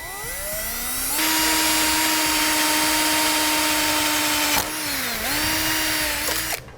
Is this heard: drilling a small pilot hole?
yes